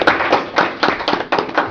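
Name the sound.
round of applause at a county commissioner meeting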